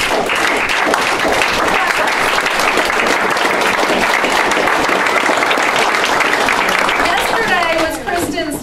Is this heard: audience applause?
yes